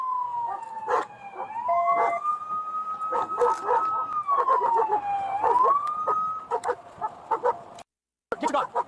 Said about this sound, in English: You're not gonna hear anything with the dog barking.